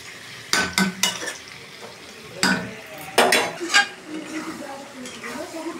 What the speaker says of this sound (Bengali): এই দেখো আমার মাংসটা খুব সুন্দর করে আমি কষিয়ে নিলাম